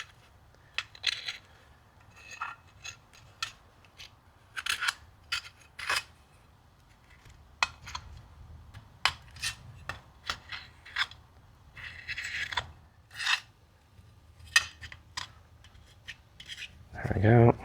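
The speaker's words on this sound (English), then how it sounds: "take a razor and then just gently run it" A razor blade trimming excess head gasket material off a Briggs & Stratton engine from a John Deere D110 riding mower, a string of faint, short scraping and slicing strokes in an irregular rhythm, close and quiet, ending with a brief clatter.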